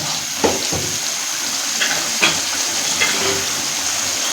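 Mutton sautés in ghee in a karahi, a steady close sizzling hiss with a few soft knocks and scrapes of stirring scattered through.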